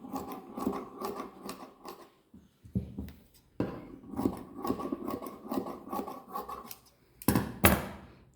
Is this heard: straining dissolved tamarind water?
no